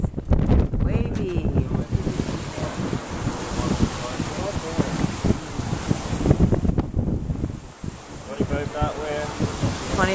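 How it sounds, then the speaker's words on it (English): Strong wind of about twenty-five knots roars over the microphone while sailing at sea toward St. Barts in big, wavy seas. Gusts buffet loudly throughout, with the wash of waves and the boat underneath. "Twenty-five mile an hour knot wind."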